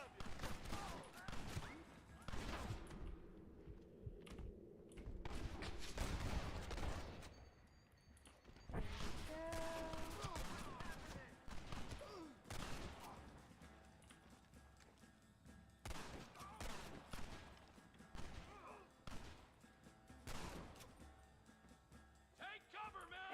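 Gunfire in the video game Red Dead Redemption: repeated bursts of shots and rapid volleys, some loud and close and others more distant. The firing runs throughout, mixed with other game sounds, and a player talks over part of it.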